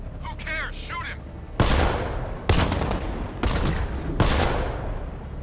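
Gunfire in the video game Batman Arkham Knight: four loud, sharp bursts of automatic fire at roughly even intervals, each followed by a short rattling decay, after brief voice-like sounds at the start.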